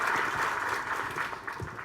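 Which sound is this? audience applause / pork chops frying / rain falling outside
audience applause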